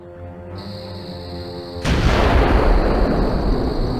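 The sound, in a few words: gunfire in the Agatha Christie video game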